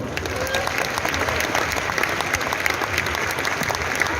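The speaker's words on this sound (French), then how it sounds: "Voilà, vous les applaudissez encore." Large arena crowd applauding entrepreneurs at a business event in Paris, a dense, continuous roar of clapping at steady volume throughout.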